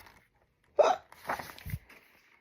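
Hiccup-like bursts, one sharp loud hiccup followed by a few softer voiced catches, close and alone.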